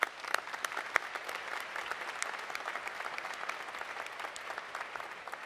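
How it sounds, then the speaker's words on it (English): Applause from the audience at a 2019 graduate commencement ceremony: a large crowd claps in a dense, steady wash that lasts several seconds at moderate distance, with no talking over it. "So Morgan, I'm going to give you a round of applause."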